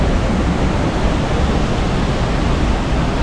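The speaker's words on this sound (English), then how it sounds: "Yes, this is the waterfall." A waterfall in Central Java, Indonesia, beside a cafe, roars as a steady, loud wash of falling water with no breaks and no voices over it.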